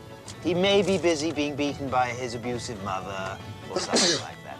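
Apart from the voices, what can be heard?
sneeze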